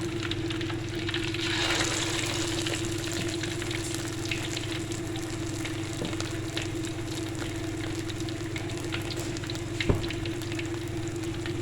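Fish pieces fry in hot oil over a low flame, a steady close sizzle that carries unbroken throughout with faint crackles and an occasional utensil tap.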